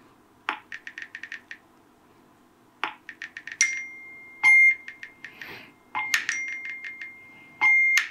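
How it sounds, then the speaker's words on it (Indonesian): Quick bursts of crisp smartphone keyboard tapping clicks while typing in WhatsApp on iOS 17.4.1, in short runs separated by pauses, close and clear against a quiet background. "Gue ngetik di sini di WhatsApp. Kedengeran ya suaranya?"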